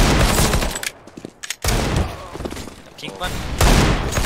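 Gunfire in Counter-Strike: Global Offensive comes in heavy bursts of rapid shots, broken by short pauses with a few isolated cracks, loud and close, while a voice speaks briefly.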